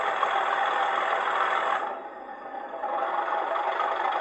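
Heljan O gauge Class 37 model diesel locomotive with DCC sound, its engine revved to full power, giving a steady loud mechanical roar that briefly dips in the middle and then returns, with no talking.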